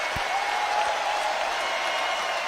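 A crowd claps in steady, dense applause that goes on without a break for the whole short stretch, sounding like a large audience.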